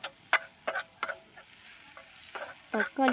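Food fries in a pan at an outdoor cooking spot, a soft sizzle under several quick metallic scrapes and clinks of stirring, spaced irregularly and fairly close.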